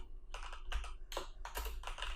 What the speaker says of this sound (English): so let's start typing our first HTML page